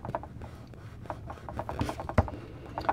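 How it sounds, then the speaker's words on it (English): A Teflon bone folder rubs over paper to press it flat while making a bookmark card, giving quiet, close scraping strokes in short irregular bursts. "I'm going to use my Teflon bone folder and just go over that and rub it in good"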